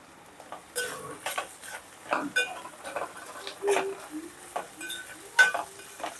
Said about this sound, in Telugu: ఉల్లిపాయలు వేగాక వేపుతాను అన్నమాట ఇప్పుడు మనం మిల్లిమేకర్లు వేసుకుందాం